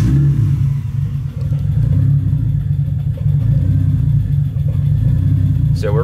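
A turbocharged 1985 BMW E30 engine runs loud and close with a deep, uneven rumble, surging slightly as it settles toward idle; a brief high squeal near the end.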